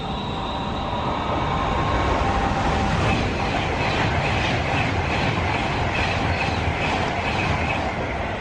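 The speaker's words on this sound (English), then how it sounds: "There, I love that little train." A little train passing on the line near Wolverton gives a loud, steady rumble with rail clatter, holding close and even throughout.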